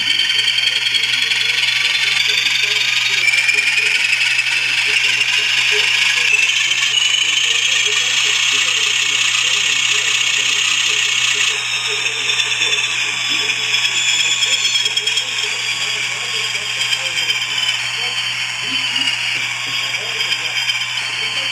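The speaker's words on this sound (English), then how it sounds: "Now we're going to see if the RPM sounds will work." An Atlas RS3 model locomotive's DCC sound decoder, running with no locomotive load, produces a continuous loud diesel engine drone with a steady mechanical rumble that shifts slightly in pitch partway through as the RPM changes.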